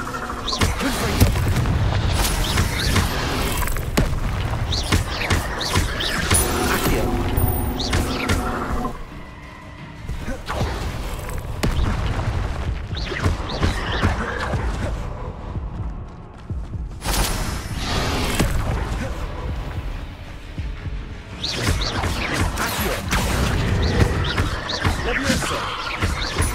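Fire spell explosions burst out in a video game battle, with heavy booms and blasts one after another over a dense, loud mix of combat sound and music.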